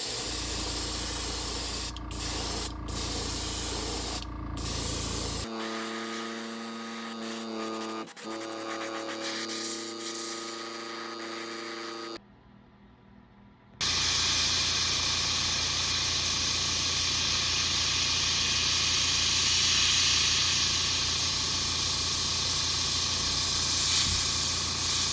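White base coat sprayed onto a handmade wooden jerkbait fishing lure: loud, steady airbrush-style hissing in bursts, with a brief pause before a long continuous spray.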